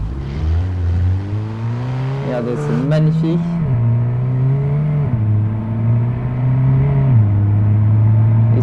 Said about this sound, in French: Je l'ai fait redémarrer ici la voiture.